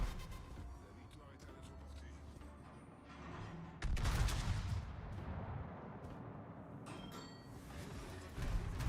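Japanese battleship main guns firing shells in World of Warships: a single heavy, booming salvo erupts midway with a long rumbling tail, set against steady naval battle ambience.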